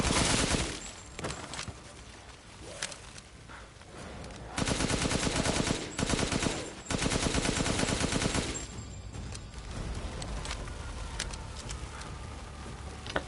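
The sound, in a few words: gunfire from Chris's gun in Resident Evil Village video game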